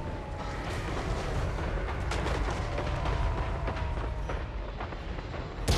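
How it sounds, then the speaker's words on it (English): Explosions and artillery fire rumble continuously through a battle in the video game Total War: Warhammer 3, forming a dense, steady roar of blasts at moderate distance. "There are explosions everywhere."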